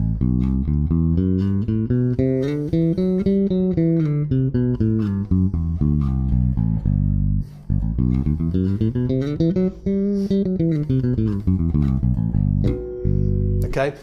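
Bass guitar runs a major scale exercise with index-finger slides between positions, the notes rising and falling in continuous phrases that glide from one pitch to the next, close and steady with no talking.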